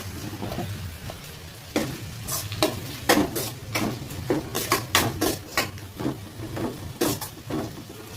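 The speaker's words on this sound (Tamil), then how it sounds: "மஞ்சள், இது போட்டு நல்லா வதங்கணும்." Onions sautéing with turmeric in a pan for an egg gravy, with a soft sizzle beneath a run of quick, irregular spatula scrapes and taps against the pan, close and moderately loud.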